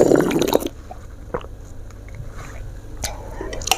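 A short, wet, noisy slurp of sayur asem, a Sundanese sour vegetable soup, followed by faint chewing clicks and small mouth sounds in a quiet room.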